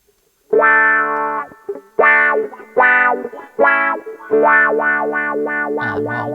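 Electric guitar playing chords through a wah effect, the tone sweeping and swelling with each strum in bursts of phrases, fairly loud and close.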